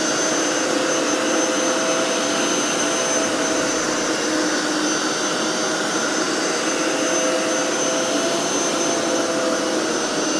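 A Hoover PowerScrub XL Pet Plus carpet and upholstery cleaner runs continuously with a loud, steady motor whine and suction roar, close and unbroken throughout.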